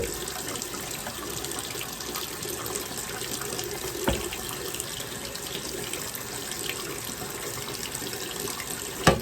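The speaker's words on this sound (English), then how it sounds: "I'm gonna go ahead and wash it with some Dawn." A tap runs steadily into a sink as a tumbler is washed with Dawn dish soap, a close, continuous watery rush with a few knocks from handling and no talk.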